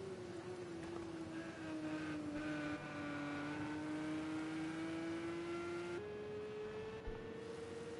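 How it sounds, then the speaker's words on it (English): Porsche Supercup race car engine in a racing simulator game at the Catalunya circuit, a loud steady high-revving drone that rises gradually, then shifts up sharply once as the car accelerates, with no talk. "you can hear his car just revving up in the on the camera there"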